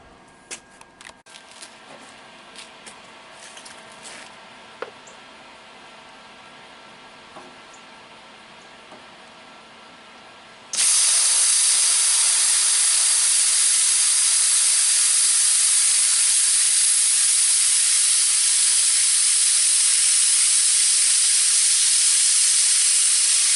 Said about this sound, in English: This is my little plasma cutter. It's a Lincoln 625